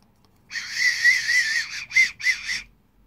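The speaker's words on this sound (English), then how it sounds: "Whistle." A small toy whistle from a pirate-themed party bag is blown in a shrill, warbling burst of about two seconds, followed by two quick shorter toots, close and alone.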